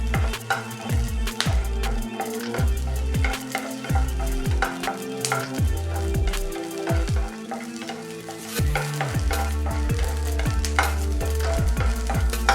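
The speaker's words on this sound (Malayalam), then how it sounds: "ഞാനിപ്പോൾ മുഴുവനായിട്ടിട്ട് ഇങ്ങനെ ഇളക്കിയെടുക്കുവാണ്" Garlic sautéing in a hot pan for masala fish fry, a constant close sizzle broken by frequent rhythmic scrapes and clanks of a spoon stirring against the pan, with no talk.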